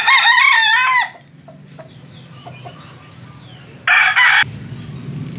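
A golden boy sweater gamefowl rooster crows loud and close in one long wavering call, then clucks and stirs quietly before a second short crow bursts out.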